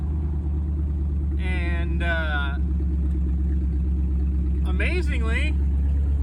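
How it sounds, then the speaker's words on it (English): A steady, loud engine drone from a Jeep idling in four-wheel low and second gear on rough off-road terrain, with someone talking briefly over it. "We're literally idling in 4-wheel low in 2nd gear."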